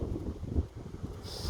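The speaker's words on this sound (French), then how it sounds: "Il commence à y avoir du vent de malade." Strong wind buffets the microphone outdoors during metal detecting, a loud, rumbling roar gusting unevenly throughout with no voices.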